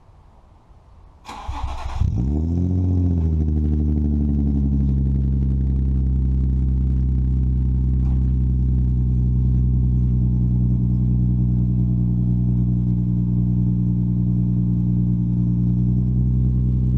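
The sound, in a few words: Nissan 350z engine cold start with Agency Power exhaust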